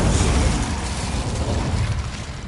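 An Incendio fire spell is cast in Hogwarts Legacy, giving a loud, roaring whoosh of flame with rumbling low-end crackle that holds steady, then tapers slightly.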